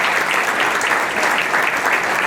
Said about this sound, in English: let's have a big round of applause also for all the winners